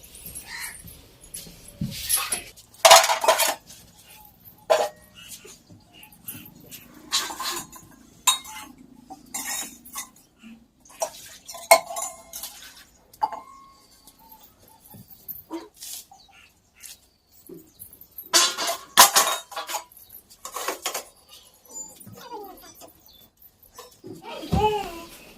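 Dishes, pots and metal utensils being washed, clinking and clattering in scattered bursts, some sharp and close, with quieter gaps between, and no talking.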